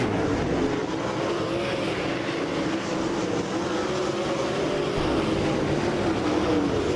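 Dirt track race cars thunder around Lake Ozark Speedway in a dense, unbroken wall of engine noise, loud and close throughout, rising and falling slightly as the pack passes.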